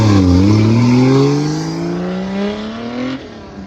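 A drift car practicing backies on initiation roars loudly and close, its engine revving high and then dropping off as it slides, with no voices.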